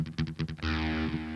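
An electric guitar runs through an ART SGX 2000 Express effects preset without distortion: a few quick, choppy rhythmic strums, then a sustained chord ringing out with a processed, shimmering tail.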